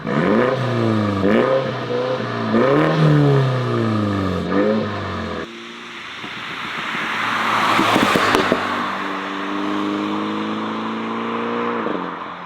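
A MINI with an aftermarket exhaust in sport mode revs hard several times with rising and falling engine notes, then a louder rasping roar as the car pulls away and accelerates.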